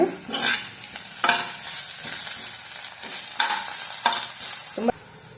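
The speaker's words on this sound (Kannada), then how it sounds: "ಚೆನ್ನಾಗಿ ಮಿಕ್ಸ್ ಮಾಡಿಕೊಂಡು ಫ್ರೈ ಮಾಡ್ಕೊಳ್ಳೋಣ" Onions frying in a pan for paneer bhurji, with steady sizzling and repeated scraping stirs of a spatula, close and fairly loud, no talking.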